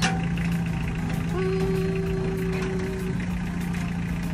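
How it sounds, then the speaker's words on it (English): A tractor engine runs steadily nearby while pulling up fence posts on a farm, a constant mid-low drone with a brief tonal whine partway through. "So Mike is on the tractor, and he's going to just pull up"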